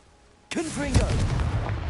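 A Confringo fire spell blast erupts in the Hogwarts Legacy video game: a sudden loud boom cuts in, then a sustained rumbling roar follows, with a brief voice sounding over the start of it.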